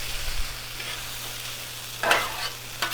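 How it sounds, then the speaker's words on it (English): Potatoes frying on a Blackstone griddle, a steady soft sizzle with a couple of brief louder spits and scrapes near the end. "can you hear that sizzle? They are crisping up nicely"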